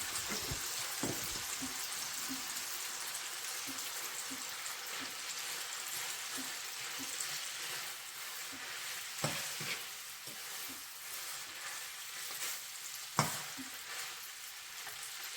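Bacon and green chile sizzle steadily in a pan, a dense continuous frying hiss broken by occasional scrapes and clinks of a utensil stirring.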